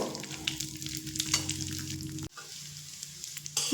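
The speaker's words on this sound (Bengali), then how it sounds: "ড্রাই ফ্রুটগুলো একটু ভেজে নেব ঠিক এক থেকে দু মিনিট মতো মিডিয়াম ফ্লেমে ভাজব" Dry fruits frying in a pan over a medium flame: a continuous bright sizzle with light crackles, close up, cut briefly partway through before the frying resumes, with no talking.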